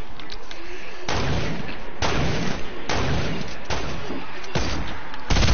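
Heavy video-game gunfire booms out in a steady series of loud, evenly spaced blasts, each with a long rumbling tail.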